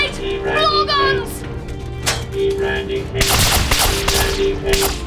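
Sci-fi blaster fire crackles in rapid bursts amid a chaotic action scene, loud and close, with shouting voices mixed in throughout and a dense volley toward the end.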